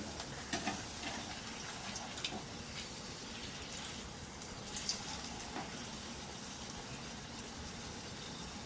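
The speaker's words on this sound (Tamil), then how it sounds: "இப்போ சோமாஸை ஒன்று ஒன்றா போட்டு ஃப்ரை பண்ணி எடுத்துடலாங்க" Prawn manchurian somas deep-frying in oil on a tawa, a constant dense bubbling hiss at even loudness throughout, with no talking.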